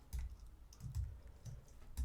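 Quick, light clicks of a computer keyboard being typed on while writing HTML and JavaScript code, heard as several short bursts of keystrokes in an uneven rhythm at close range.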